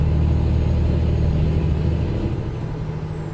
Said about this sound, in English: Can you hear the engine?